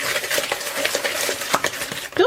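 Peanut butter and oatmeal cookie dough is stirred quickly in a bowl with a utensil, giving rapid close scraping and thudding strokes, ending with a brief clink.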